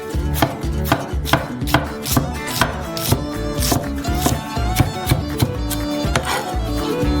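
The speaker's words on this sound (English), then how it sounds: "Finally, chop up some red onion." Red onion being chopped with a knife on a cutting board, a brisk run of sharp, evenly spaced knocks, close and loud, with no talking.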